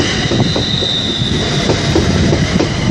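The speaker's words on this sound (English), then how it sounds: "the first train to arrive is the 1501 London Midland service" A London Midland passenger train rumbles past nearby at Liverpool South Parkway station, loud and continuous, with rhythmic clattering of wheels over the rails and a faint high whine above the noise.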